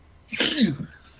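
A single loud, close sneeze with a sharp burst and brief tail, heard on its own in a quiet room during a sports talk show.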